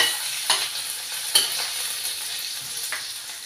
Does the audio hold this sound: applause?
no